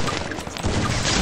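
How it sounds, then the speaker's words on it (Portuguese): Rapid gunfire from the battle royale video game Free Fire, played on an emulator, rings out as a loud, dense stream of overlapping shots that runs without a break for just over a second. "Um tiro."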